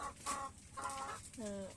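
A tiger-breed hen clucks three times in quick succession, close and fairly clear, each call a short throaty rise with brief pauses between.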